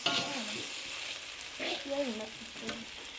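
Chicken goes into a hot pan for an Indonesian manuk pollong dish and fries with a loud, steady sizzle and hiss close by, while a voice talks briefly over it.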